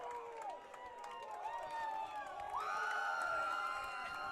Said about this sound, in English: now the crowd, the defender crowd is feeding off the Mustang crowd